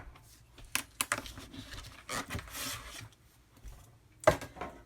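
A scoring tool pressed along paper on a scoring board for a mini candy wrapper treat holder, giving quiet scraping rubs and a few sharp ticks, with a louder click near the end, close and without talk.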